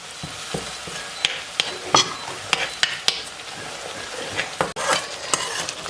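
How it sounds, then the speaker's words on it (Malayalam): Dried prawn pickle being stirred in a pan with green chillies, dried red chillies and curry leaves, spoon scraping and clicking against the pan in irregular strokes over a soft, steady frying sizzle. "എല്ലാം കൂടി ഒന്ന് നന്നായിട്ട് മിക്സ് ചെയ്ത് ആ മുളകിൻ്റെയും പച്ചമുളകിൻ്റെയും ഈ വറ്റൽമുളകിൻ്റെയും കറിവേപ്പിലയുടെയൊക്കെ ഒരു നല്ല ബ്ലെൻഡാണ്"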